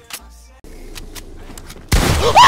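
Gunfire from the video game Fortnite, with a few sharp shots early on and then a loud, dense burst of rapid fire at the end, mixed with game effects and no clear voices.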